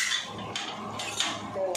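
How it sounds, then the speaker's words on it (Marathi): A spoon stirs brinjal and potato curry in a metal pan, giving a series of light scraping clinks against the pan at an uneven rhythm, close and fairly clear. "तर असं हलका असा चमचा फिरवायचा, हलका"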